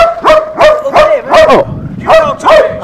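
Dogs bark sharply and loudly at close range in a quick series of about seven yapping barks, with short pauses in between.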